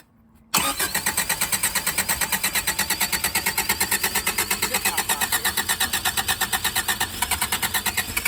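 A 1984 Subaru Brat engine that sat for ten years cranks over steadily after half a second of quiet, its loud, rapid, even starter rhythm pulsing throughout without catching.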